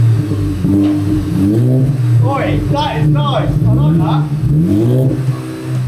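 Modified Skoda Yeti engine with a new exhaust, starting and revving in a low, throbbing drone beneath excited voices, with rises in pitch as the throttle is blipped, loud and close throughout.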